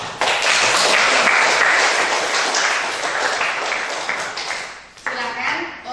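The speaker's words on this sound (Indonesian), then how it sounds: "kita kasih tepuk tangan buat Mbak" A classroom audience of students gives a brisk round of applause that fades, then a short burst of clapping returns with a voice speaking over it.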